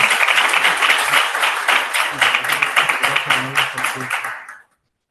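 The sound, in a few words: audience applause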